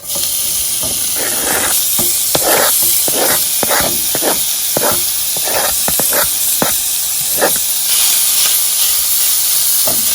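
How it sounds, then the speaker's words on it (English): Bacon crisping in a pot for a supreme pizza gives a steady, loud hissing sizzle, broken by frequent short crackling pops spread through the whole stretch, with no talking. "I'm gonna now add my bacon to the pot to crisp up a little bit."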